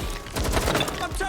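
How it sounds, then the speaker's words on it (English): Rapid gunfire crackles in the video game Watch Dogs: Legion, a dense, close flurry of shots over a little more than a second, with voices talking through it. "Suspect shooting! Taking fire!"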